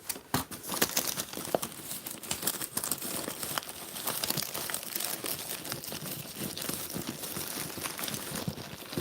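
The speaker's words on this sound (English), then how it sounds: "Y'all hearing all this stuff rattling around in my purse" Assorted items in a purse rattle, crinkle and clack while a gloved hand rummages for keys, a busy run of close, irregular rustles and knocks with no speech.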